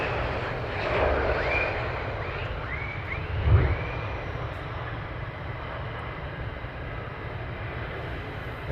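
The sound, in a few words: fighter jets departing RAF Lakenheath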